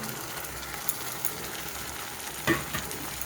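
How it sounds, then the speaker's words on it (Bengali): Pointed gourd paste stirred and fried dry in a pan, a steady close sizzling hiss with occasional spatula scrapes and one brief louder clack. "এই পটলটাকেও আমি বেশ কয়েকবার খুব ভালো করে আমি নেড়ে চেড়ে একদম শুকনো করে নেব"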